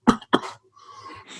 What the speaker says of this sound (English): I got to edit out those coughs because that's just way too much coughing.